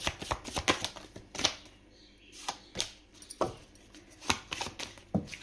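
Tarot cards are shuffled close by in a run of quick, crisp riffling bursts and soft flicks, uneven in rhythm, with no talk.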